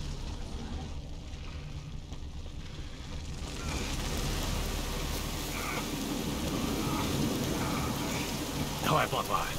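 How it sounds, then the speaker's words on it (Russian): Rain falls in a video game, a soft steady hiss that swells and grows louder after a few seconds, with a brief louder rumble or burst near the end. "Похоже, дождь собирается."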